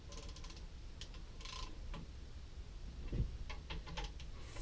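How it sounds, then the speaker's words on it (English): Soft mechanical ticks and clicks come from a click-type torque wrench being turned on the bolts of a Mopar 360 oil pan, quiet and irregular, with a single heavier clunk near the end. "Let me get my trusty torque wrench here."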